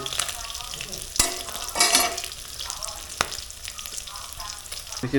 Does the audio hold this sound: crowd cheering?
no